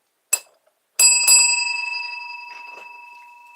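A bell rings out alone: a brief first tap, then two quick bright strikes that ring on with a long, slowly decaying metallic tone, followed by a couple of faint softer touches.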